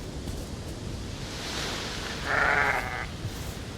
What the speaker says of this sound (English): Man, I've got a lot of sheep.